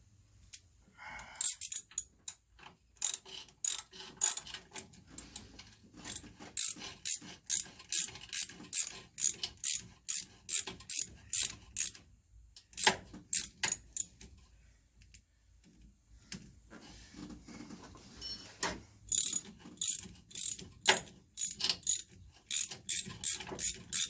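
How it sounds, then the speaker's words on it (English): Ratchet clicking in repeated quick bursts while tightening bolts on a manual steering box being installed on a GM G-body, close and crisp with short pauses between strokes and no talking. "let me get a ratchet. Get a ratchet on them"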